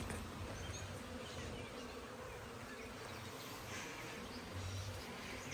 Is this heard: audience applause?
no